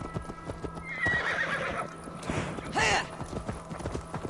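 Horse hooves clip-clop in Assassin's Creed Valhalla, a steady trot heard up close, with a sharp whinny rising partway through; game music hums underneath.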